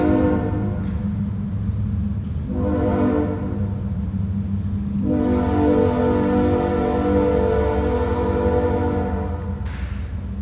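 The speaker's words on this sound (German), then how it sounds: "Das ist etwa das, was ich am wenigsten gerne habe in Spokane, sind die blöden Züge." A train passes through Spokane with a deep, steady rumble, while its horn sounds loud and close in several long blasts over roughly ten seconds.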